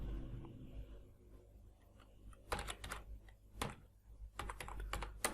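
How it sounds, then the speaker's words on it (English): Close computer keyboard typing as a command is entered: irregular bursts of crisp keystroke clicks with brief pauses between runs, no voices. "let me type a command"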